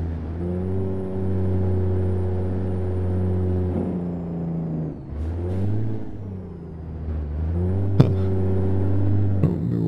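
A Caterpillar 3406E truck engine in American Truck Simulator drones steadily with a deep harmonic rumble, dipping and rising through gear changes around the middle and near the end, with a brief sharp click late on; no talk.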